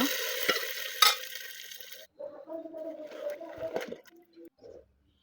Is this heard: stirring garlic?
yes